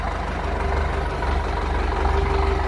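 A 2016-model tractor, a 5105, idles nearby, its diesel engine giving a steady low chugging rumble with a faint whine above, even and unbroken throughout.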